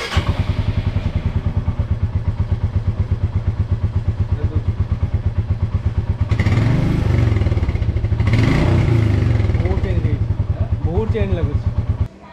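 Royal Enfield Meteor motorcycle fitted with a slip-on exhaust idles close by with a steady, deep thumping beat, then revs briefly twice before cutting off, while someone talks over it.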